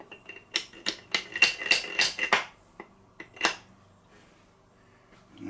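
A metal pipe taps a sealing washer down into a mower deck spindle on a Sears Suburban garden tractor, giving a quick burst of sharp metallic knocks followed by a few isolated taps and then quiet.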